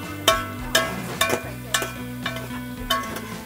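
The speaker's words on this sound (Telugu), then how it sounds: "మాడుకోకుండా ఆనియన్స్ అయితే ఇలా ఫ్రై చేయాలని కంటిన్యూగా తిప్పుతూ ఉండాలి." Onions frying in oil in a pan while being stirred continuously, with a steady sizzle under repeated scraping strokes of a spoon about every half second, close and fairly loud.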